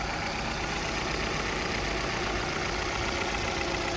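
A used 2007 1.6-litre car engine idles steadily and evenly, a constant low rumble with no knocks or rattles, alone and close by.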